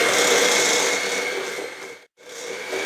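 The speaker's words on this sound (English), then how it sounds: "We just cream that together real quick. Mix it, blend it, cream it." Electric mixer creaming gluten-free chocolate chip cookie dough ingredients, a loud continuous whirring grind that cuts out briefly near the end before starting again.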